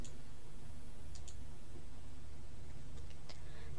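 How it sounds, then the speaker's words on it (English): Faint, close computer mouse clicks on a software create button come in two quick pairs over a quiet room hum. "click on the create button"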